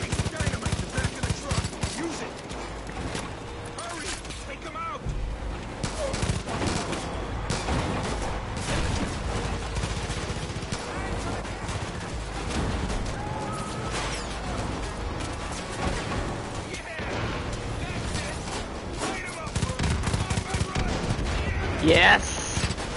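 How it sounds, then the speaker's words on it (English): Sustained gunfire in Far Cry 5 on PS4 Pro, with rapid bursts and volleys of automatic shots from several attackers firing continuously across the whole stretch, mixed with impacts and crashes, loud and close. "they keep shooting"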